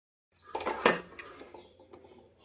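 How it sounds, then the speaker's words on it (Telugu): Ground chana dal tipped from a metal container into melted jaggery in a pan, giving a quick burst of clattering and scraping of metal utensils, loudest near the start, then trailing off into light stirring sounds. "ఈ విధంగా మిక్సీ పట్టుకున్న శనగపప్పును కరిగిన బెల్లంలో వేసుకుంటున్నా."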